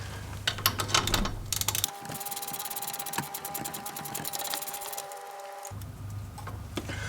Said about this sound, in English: we're going to remove this 12mm bolt right here that helps hold the brake line in place